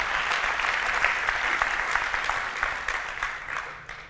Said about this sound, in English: I think the Business Rules Service deserves a round of applause.